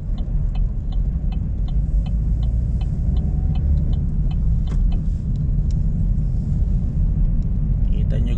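A car drives along a slippery, snow-covered road in England in the dark early morning, its steady low engine and tyre rumble filling the whole stretch with faint ticking above.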